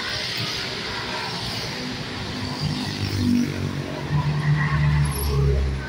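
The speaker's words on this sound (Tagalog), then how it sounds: "tuloy na mga sasakyan dito" Cars and other vehicles stream past on a busy highway by Roxas Boulevard in Manila, a steady broadband traffic roar with engines swelling louder as nearer vehicles pass, continuous throughout.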